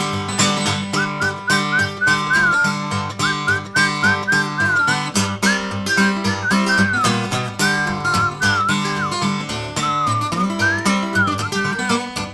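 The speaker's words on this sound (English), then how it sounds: "You must whistle when you want your horse to come to you." A loud whistled melody carries over steady instrumental music, rising and falling in long phrases.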